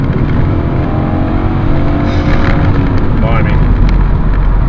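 A BMW E39 535i with a V8 being dropped a gear on the motorway and accelerating hard. A loud, steady engine roar fills the whole stretch, with someone talking over it.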